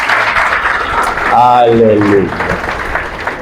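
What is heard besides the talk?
church congregation applause for the Lord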